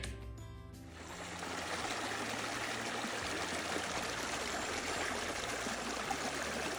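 Brown water flows steadily along a forest stream on a hiking trail, a continuous close rushing and trickling wash that fills the scene without voices.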